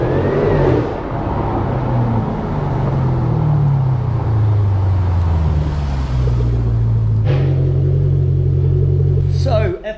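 A Jaguar F-Pace SVR's supercharged 5-litre V8 runs through a stainless exhaust system, a deep rumbling drone that rises and falls in pitch as it revs, heard under someone talking, then a sharp change near the end.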